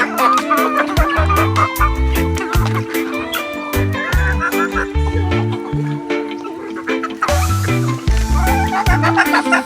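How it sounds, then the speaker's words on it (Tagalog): A hen about to lay an egg clucks repeatedly in short, loud bursts, with other fowl sounds mixed in close by. "Ayan, kumakakak na yan."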